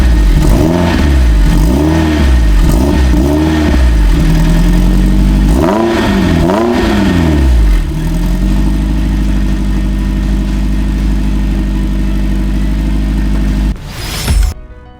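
A Peugeot 205 GTI engine with a Milltek sport exhaust starts and revs repeatedly in quick bursts, then settles into a loud, steady idle with a deep, throaty exhaust note.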